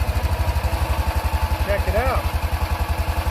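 Small engine idling steadily after repair, running smoothly with a regular low thumping beat and no misfire; someone speaks briefly over it.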